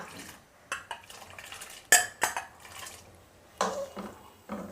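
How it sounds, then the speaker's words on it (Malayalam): Makhana payasam with sago is stirred in a pot with a metal spoon, giving a few separate clanks and scrapes against the pot's sides, close and quiet, with no talking. "നമുക്കിങ്ങനെ ഇളക്കി കൊടുക്കണം കേട്ടോ"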